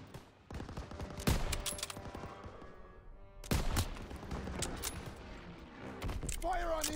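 Sustained machine gun fire and bursts of gunfire in a Call of Duty: WWII battle at a stronghold with flak guns and a half-track, loud and dense, with voices shouting over the shooting.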